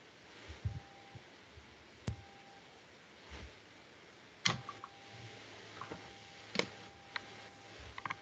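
Sparse, irregular clicks of typing on a computer keyboard in a quiet room, a few faint isolated keystrokes with louder taps scattered among them, no speech.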